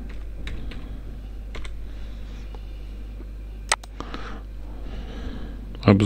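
Light keystrokes tap out a few short bursts on a computer keyboard while someone talks quietly in the background, ending with a sharper clack.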